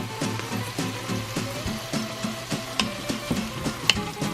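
Beef seasoned with salt and pepper sizzles and fries in a pan as a utensil stirs it in quick, repeated scrapes, a close, moderately quiet rhythmic sound.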